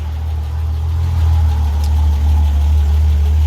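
A car engine idles after an oil cooler install, a steady low rumble close by with a faint higher whine layered on top, unbroken and alone.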